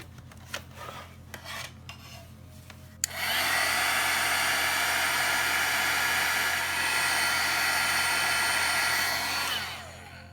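A heat embossing gun for embossing powder switches on after a few quiet seconds and blows a loud, steady whooshing hiss close by for about six seconds before cutting off, with no talking.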